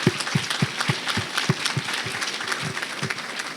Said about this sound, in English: So I think we should give them all another round of applause.